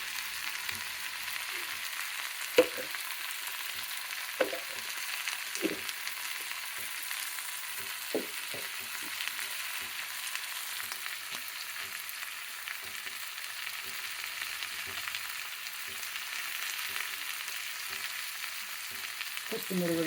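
Cumin and spices for dondakaya pachadi fry quietly in a pan. A steady soft sizzle runs throughout, with sparse clicks and taps of stirring and no talking.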